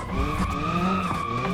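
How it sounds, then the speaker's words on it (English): A manual car drifts through a hospital in the driving game BeamNG Drive, its tires skidding and squealing steadily over a continuous engine drone for the whole short stretch. "this is a hospital and we're drifting through"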